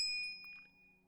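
A single bright notification ding rings out alone, then its clear tone fades away over about a second.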